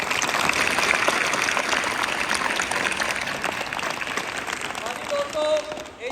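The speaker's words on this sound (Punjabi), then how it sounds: "ਇੱਕ ਵਾਰ ਜ਼ੋਰਦਾਰ ਤਾੜੀ ਮਾਰ ਕੇ" Audience applause and cheering at the close of a live Punjabi comedy street play, a dense, steady wash of many hands clapping that runs the whole stretch, with voices mixed in.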